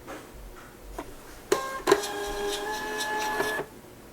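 A cheap thermal label printer runs during setup, giving two sharp mechanical clicks and then a steady whirring feed with tonal motor whine for about two seconds before it stops, close by and alone.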